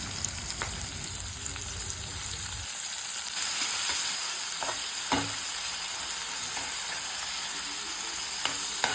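Chopped onion and garlic fry in hot oil with a steady, close sizzle and hiss, broken by a few sharp stirring scrapes and pops.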